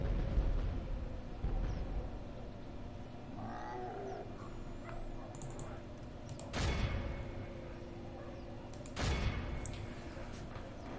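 Cannons and mortars firing during a Total War: Warhammer battle, two sharp booming blasts some seconds apart over a low, rumbling battlefield background.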